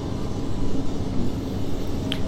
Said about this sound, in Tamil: ஸோ நம்ம ஸ்பீட் எடுப்போம்